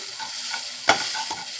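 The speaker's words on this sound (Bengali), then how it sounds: "তো উচ্ছে পাতা, কালো জিরে, সর্ষে, নুন হলুদ দিয়ে ভালো করে কষিয়ে নিয়েছি।" Bitter gourd leaves with nigella seeds, mustard and salt and turmeric being stirred and sautéed in a pan, giving a steady low frying sizzle with a couple of sharp scraping stir strokes.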